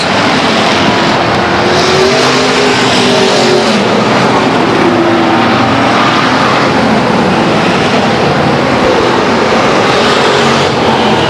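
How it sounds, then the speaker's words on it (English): Race cars lap the quarter-mile oval at Stockton 99 Speedway, a loud, continuous engine roar and drone filling the whole stretch with a few shifting engine tones and no talking. "Could be a right rear flat on the 47 car of Aaron Schenkel as he goes around"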